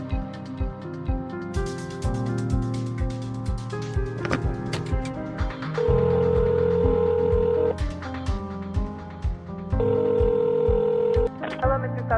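Room phone in the video game Nobodies After Death, with electronic dialing tones and ringing beeps layered over steady looping game music, including long sustained tones, no talking.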